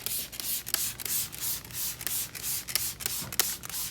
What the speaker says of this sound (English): you can spray it on the chrome as well